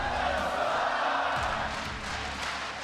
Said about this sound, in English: The San Francisco crowd chanting, "Let's go Cloud9,"